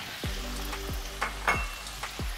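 Pumpkin broth for Jamaican steamed fish simmers in a pot while being stirred, giving a soft bubbling sizzle with a few faint scraping strokes and light knocks, close and quiet, with no talk.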